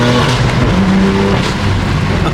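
A BMW M2 Competition engine revs hard while accelerating, a loud, close, continuous roar with rising and falling engine tones and no talking.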